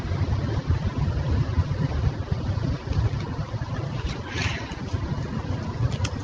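A boat engine drones steadily and loudly with a low rumbling throb, mixed with wind and water noise, continuous throughout.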